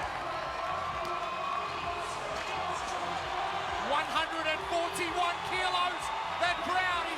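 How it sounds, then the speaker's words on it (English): A large crowd at a CrossFit weightlifting event builds into loud cheering and whoops as a heavy lift is attempted, with an excited commentator speaking over the roar. "That crowd is going bananas here."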